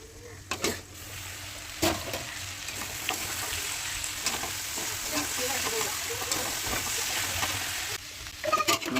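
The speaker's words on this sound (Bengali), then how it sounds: "ভাজাটা নেড়ে নিয়েছি, এখন আবার একটুখানি দিয়ে দেবো। কিছুক্ষণ দেখে রাখবো, ভাজা হবে।" Food sizzles and fries steadily in a pan with turmeric, with occasional stirring scrapes and clinks over a continuous hiss.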